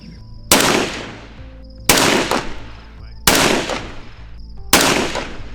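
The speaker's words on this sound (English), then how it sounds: "we have the PSG-1 firing Federal" Four loud, sharp rifle shots from a PSG-1 firing .308 Federal Gold Medal Match, evenly spaced about 1.4 seconds apart, each with a long echoing decay outdoors.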